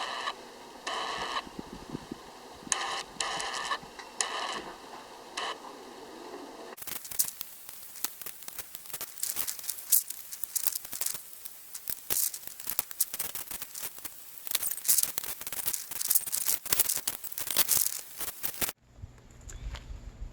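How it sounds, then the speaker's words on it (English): Plastic Power Pole replacement reservoir being screwed into place, heard as close, dry scraping and crinkling handling noises with rapid ticks, louder and busier in the middle stretch, with no talking. "you'll just have to trust me that I'm screwing it in"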